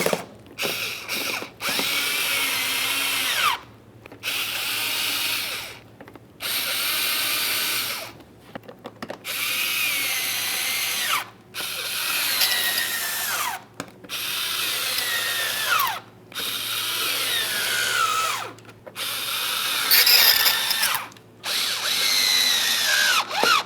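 A power drill drives headlight mounting screws on a 2006-2012 Ford Fusion, whirring loudly in repeated bursts of a few seconds each, separated by brief silences, with the pitch dropping as each screw seats.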